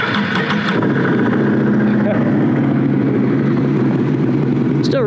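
The engine of a badly damaged 2019 Can-Am Renegade ATV cranks and catches, then settles into a rough, steady idle with a buzzy rattle; people talk over it.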